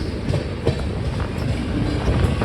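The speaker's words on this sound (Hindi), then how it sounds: "10 मिनट की देरी से हमारी नंदनकानन पहुंच चुकी है आनंद विहार टर्मिनल" Nandankanan Express double-decker train running on rails, a close, steady rolling rumble with rhythmic clickety-clack of wheels throughout.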